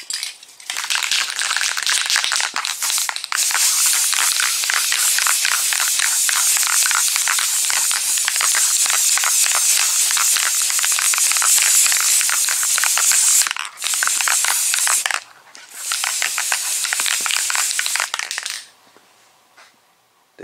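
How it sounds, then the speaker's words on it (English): Primer spray can used as a guide coat hissing onto a fiberglass wiper cowl panel, long continuous bursts with two brief pauses near the end, loud and close. "Now I spray my guide coat."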